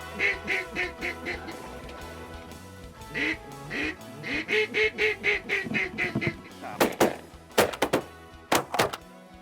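Shotgun blasts ring out during a duck hunt, a few sharp broadband cracks in the latter half, while ducks quack rhythmically throughout and hunters' voices are briefly heard.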